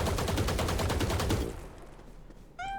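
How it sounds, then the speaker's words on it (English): Rapid automatic gunfire from a weapon in the Valorant video game, shot at a box on the Abyss map, a fast steady string of close, loud shots that stops abruptly, followed by a brief ringing impact. "If I shoot here,"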